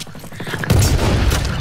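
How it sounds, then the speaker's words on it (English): A sniper rifle in a video game fires one loud, close shot that rolls out into a sustained booming echo after a brief, quieter mechanical lead-in. "So I'm using a sniper right now."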